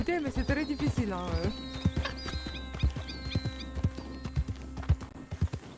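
Horse hooves clip-clop in an irregular walking rhythm, sharp knocks scattered across the clip, while a person speaks French over them and a whinny-like tonal call rises briefly near the start.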